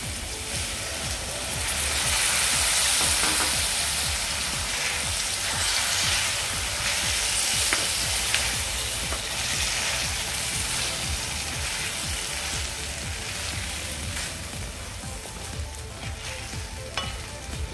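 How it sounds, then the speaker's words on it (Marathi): Tamarind pulp added to a sizzling bombil (Bombay duck fish) masala in a pan, a loud continuous frying hiss with stirring throughout, no talk. "चिंचेचा कोळ घालून घेऊया"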